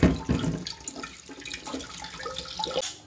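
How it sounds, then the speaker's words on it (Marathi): Toor and moong dal are washed together under running water, with a close, continuous splashing and trickling, loudest at the start, then swishing on steadily. "तुरीची डाळ मुगाची डाळ एकत्र करून स्वच्छ धुवून घ्या"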